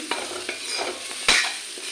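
Spices with black cumin seeds sizzle gently in a pan while a spoon scrapes and stirs them in a few short strokes, one louder clack near the middle.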